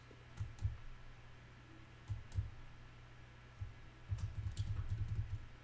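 Router commands typed on a computer keyboard: close, soft key clicks in short clusters separated by pauses, ending in a faster run of keystrokes in a quiet room.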